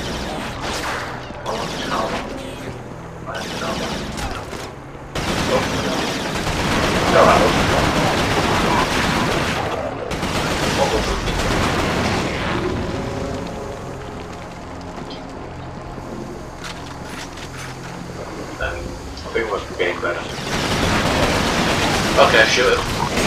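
Video game gunfire in Resistance: Fall of Man, bursts of automatic shots and explosions mixed with crashes, with people talking over the action throughout.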